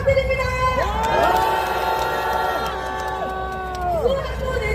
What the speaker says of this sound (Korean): 여러분 다시 한번 뜨거운 함성 부탁드립니다